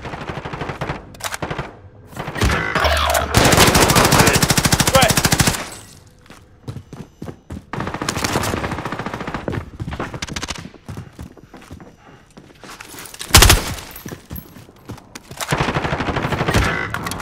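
Automatic weapons fire in a first-person shooter video game, heard in loud, rapid bursts separated by lulls, with a sharp single crack near the middle and other game sounds in between.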